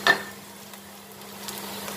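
Garlic, onion and ginger sizzle steadily in a pan as pineapple sauce is added for a home-cooked turkey dish, with a brief stirring clatter at the start and a soft continuous frying hiss throughout.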